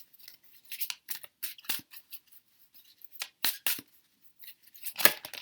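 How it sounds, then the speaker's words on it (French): Tarot cards are shuffled by hand, a run of quick crisp riffling and sliding bursts in uneven clusters, close and clear with no talk. "vous mélangez vos cartes"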